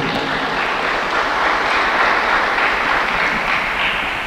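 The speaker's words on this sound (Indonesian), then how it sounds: "Tepuk tangan dulu." Steady crowd applause at the opening ceremony of a Red Cross volunteer training event, loud and continuous throughout, many hands clapping at once with no voices standing out.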